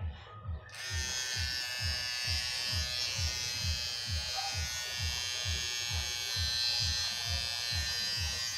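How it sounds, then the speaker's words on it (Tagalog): A noisy electric hair clipper with a loose blade buzzes steadily and close, with a rapid pulsing drone and a rattly high whine after a brief start. "maingay na clipper or razor"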